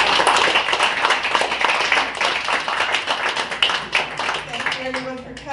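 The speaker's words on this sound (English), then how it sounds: "I think they all deserve a round of applause" A room of attendees at a community meeting applauds, uneven clapping with distinct individual hand strikes that rises and falls, voices briefly heard as it fades.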